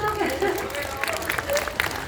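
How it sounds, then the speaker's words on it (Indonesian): Light, scattered clapping from an audience during a film Q&A session, fairly faint and mostly under ongoing speech. "Tepuk tangannya dong"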